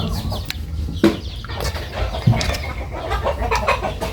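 Chickens clucking around a rural Thai home kitchen, with irregular close clucks and a couple of sharper calls standing out over a steady background of household noise.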